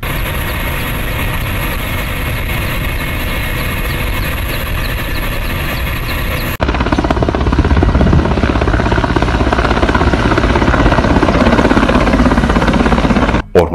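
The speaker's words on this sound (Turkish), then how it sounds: "havadan yangın söndürme helikopteriyle yapılan müdahale sonucu alevler kontrol altına alındı." Firefighting helicopter working over a forest fire in Gaziantep, Turkey, a loud continuous rotor and engine drone that steps up abruptly midway and stays heavy until a sudden cut at the end, no speech.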